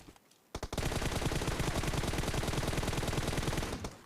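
Automatic gunfire in the video game PUBG Mobile erupts as a loud, sustained rapid burst of evenly spaced shots lasting a few seconds after a brief quiet start.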